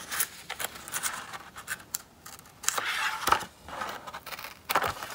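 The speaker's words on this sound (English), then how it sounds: "In fact, I might cut this straight up." Scissors cut through card paper for a Christmas card, a series of close, dry snipping and scratching strokes in irregular bursts with short pauses between.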